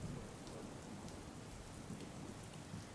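Steady, heavy rain pours down in Rajkot, Gujarat. It makes a continuous close hiss of drops on surfaces with no pauses and no voices.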